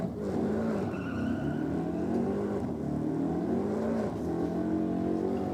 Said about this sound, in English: It's our big Hemi 300. Sound fat.